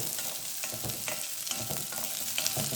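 Onions sautéing in a pan for a mutton kheema urundai gravy, a steady close sizzle and crackle with repeated soft stirring scrapes throughout.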